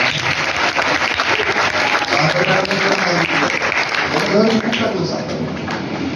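A crowd at a school function for a maths exhibition and Marathi Language Day keeps clapping in a loud, even roar that thins slightly toward the end, with a voice talking over part of it.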